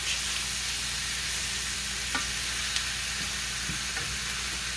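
Food frying in a large pan for a keto low-carb dinner, a steady close hissing sizzle with a few soft clicks and taps, no talking.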